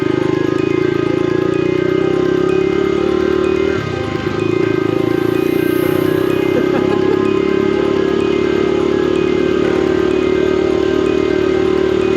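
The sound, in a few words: Honda CT90 motorcycle engine running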